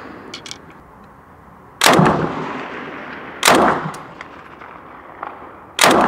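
A STEN Mk.2 9x19mm submachine gun fires at a target 100 m away on an outdoor range, with three separate loud, sharp reports spaced a second or two apart, each followed by a brief echo.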